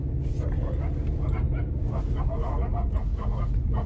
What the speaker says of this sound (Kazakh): арт жағымызда үш кішкентай ит үріп жатты